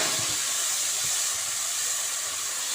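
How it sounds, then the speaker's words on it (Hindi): A large onion and green chillies fry in a pan for goat meat pulao, giving a continuous close hissing sizzle with a few faint low bumps and no talking. "ये एक बड़ी प्याज, बहुत बड़ी नहीं, दरमियानी बड़ी प्याज, ये एक मैंने डाली है। इसको मैं फ्राई करती हूँ।"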